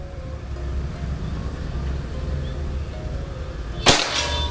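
A PCP Predator air rifle with a slug barrel fires a single sharp, close crack near the end, standing out over a steady low outdoor rumble.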